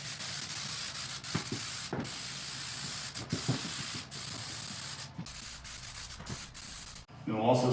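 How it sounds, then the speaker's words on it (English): Spray adhesive hisses out in a heavy coating during drywall mud and tape work, a faint, continuous spray broken by short pauses and a few soft knocks, ending with brief speech. "Then we've got the spray adhesive. We'll just give a nice heavy coating."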